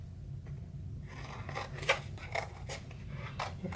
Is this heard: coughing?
no